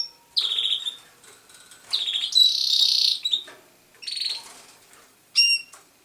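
A pet canary among other birds in a home aviary sings in short bursts of bright trilled whistles and chirps, separated by pauses, close and clear.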